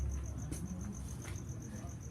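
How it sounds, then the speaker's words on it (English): A cricket chirps steadily inside a garage, a regular string of high, thin pulses running throughout at moderate distance, with low rumbling background noise underneath. "since when did the fucking cricket move in?"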